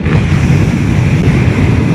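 Heavy, continuous low rumbling wind buffeting from riding a motorcycle at 55 mph behind the windscreen, loud and steady with no speech.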